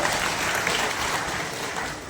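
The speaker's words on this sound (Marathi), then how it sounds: "सर्व संचालकांचं आपण टाळ्या वाजवून पुन्हा एकदा सगळ्यांचं स्वागत करूया" Audience applause welcoming the chairman and directors of a cooperative bank at a stage event: dense, steady clapping from a large crowd, sustained evenly for the whole stretch with no talk.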